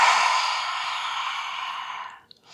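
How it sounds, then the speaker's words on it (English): A single long, forceful breath pushed out through the mouth with the tongue sticking out, as in yoga breathing, sounds as a close, airy rush that fades over about two seconds before a faint catch of breath. "you inhale through the nose, but you exhale through the mouth while sticking the tongue out"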